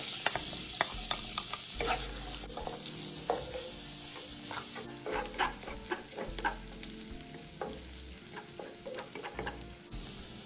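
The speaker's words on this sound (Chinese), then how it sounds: "锅里头的油保留，炉转中低火，然后将切细后的大葱倒入爆香" Finely sliced scallions stir-fry in oil over medium-low heat, a soft continuous sizzle broken by sharp scraping and tapping strokes of a spatula against the wok.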